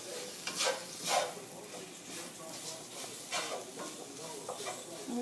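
Salted mushrooms and onions sizzle in a frying pan for chicken marsala, tossed with repeated soft scraping swishes over a steady low fry, close and fairly quiet.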